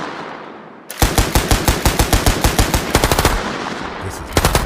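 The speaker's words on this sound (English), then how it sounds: "Open fire!" Rapid bursts of automatic gunfire erupt after a quiet moment, loud sharp repeated shots in quick rhythm for several seconds, with a brief pause and a final couple of shots.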